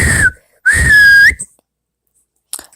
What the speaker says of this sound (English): Suddenly, out came a real whistle.